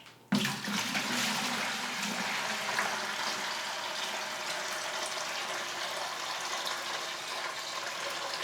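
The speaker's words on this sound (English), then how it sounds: "I'm going to try to pour at the same speed for each one." Water is poured steadily into a bucket, a loud, continuous splashing rush that begins abruptly and holds at an even level for several seconds, with no voices.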